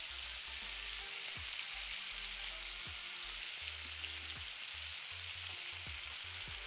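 Steak fillet searing in butter in a hot pan, a steady loud sizzle and crackle throughout with scattered low clicks and pops, no voices.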